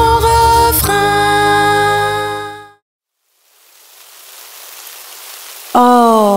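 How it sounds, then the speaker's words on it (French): Steady hiss of rain falls alone for a few seconds after music cuts out, then a bright melodic tune returns over it. "Oh, il pleut."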